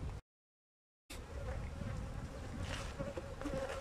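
A dense, steady buzzing of many honeybees at a hive, close and continuous, broken by a short gap of silence near the start.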